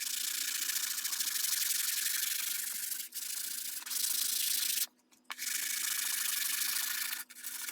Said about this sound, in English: I'll discard the block and pull the sandpaper tight in order to apply even pressure over the curve.